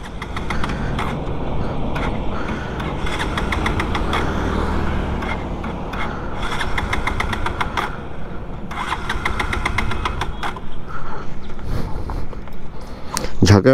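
An 18-year-old Pulsar 150 motorcycle with an empty fuel pipe is cranked. Its engine repeatedly catches and sputters in uneven, loud bursts, with brief pauses and a final surge. A voice speaks now and then.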